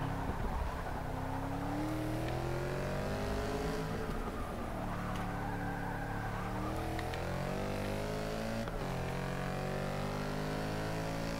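Engine of a Mercedes AMG GT-S Cup race car in Forza Motorsport 6 at Yas Marina: a steady, loud, close engine drone whose pitch rises and falls with gear changes and throttle, continuous throughout with no talk.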